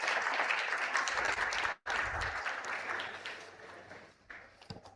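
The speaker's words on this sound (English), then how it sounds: "I'm sure it's going to be better if all of us clap along and encourage all our leaders." An audience at a conference event claps along for its leaders in dense, loud applause that briefly cuts out, then resumes and thins toward the end.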